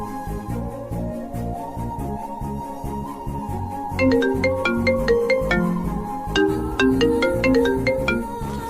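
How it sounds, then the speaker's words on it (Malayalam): A phone ringtone plays while a call goes unanswered, a steady melodic tune that repeats and grows slightly fuller midway, loud and alone without any talking. "എന്ത് ഇവള് വിളിച്ചിട്ട് ഫോൺ എടുക്കാത്തെ?"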